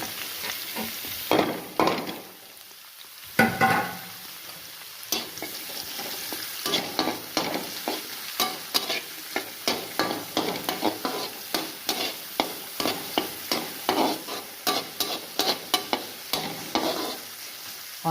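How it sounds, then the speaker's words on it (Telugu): Onions and green chilies with cumin seeds frying in ghee, a continuous sizzle broken by repeated rhythmic scrapes of a spoon stirring the pan, close and fairly loud with no talking. "ఆనియన్స్ బాగా ఫ్రై అవనియండి."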